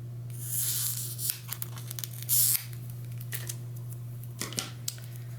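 Scissors cutting foam tape into small strips for holiday decor, quick snips and crinkly rustles close by over a steady low hum.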